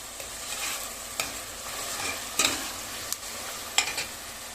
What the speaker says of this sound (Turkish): Soğanımızı pembeleşene kadar pişiriyoruz